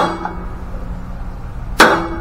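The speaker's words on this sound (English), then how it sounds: "I'm just trying to shock those screws a little bit so that the threads unlock." A hammer strikes the screws on a backfiring Husqvarna riding mower to loosen their threads: one sharp, close metallic blow near the end, with a fainter tap at the start.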